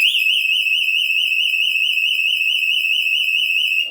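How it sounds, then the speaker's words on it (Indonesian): Small electronic buzzer alarm powered by recycled batteries gives one continuous piercing high-pitched tone, close and loud, that warbles slightly and cuts off abruptly after about four seconds. "contohnya kita langsung coba aktifkan buzzer ini."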